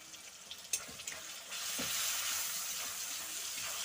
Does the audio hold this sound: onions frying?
yes